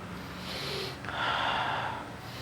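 A person breathes out naturally in two soft, close breaths. The second, longer exhale is a little louder, and no one speaks.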